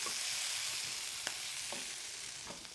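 Flower petals fry in a hot pan while being stirred, a steady close sizzle with soft scrapes of the utensil at intervals.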